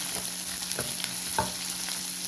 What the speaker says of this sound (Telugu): సన్నగా తరిగిన ఉల్లిపాయలు వేయాలి. ఇవన్నీ కొంచెం వేయించుకోవాలండి